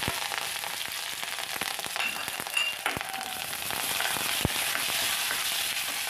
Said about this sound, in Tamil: கடுகு பொரிஞ்சிட்டு கொஞ்சம் வத்தல் போட்டுடுவோம் சுண்டு வத்தல்